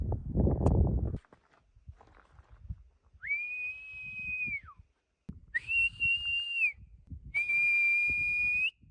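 Three long, loud whistled notes, each held steady for over a second with short gaps between, after a burst of rustling and faint footsteps.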